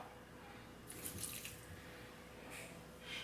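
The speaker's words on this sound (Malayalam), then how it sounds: "ഇതിലേക്ക് ഞാൻ കുറച്ച് വെള്ളമാണ് ഒഴിച്ചു കൊടുക്കുന്നത്" Water runs and splashes steadily into a bowl, about half a cup poured for a homemade biotin drink, with a brief brighter gush in the middle and near the end.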